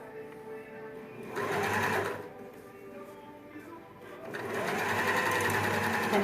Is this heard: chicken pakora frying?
no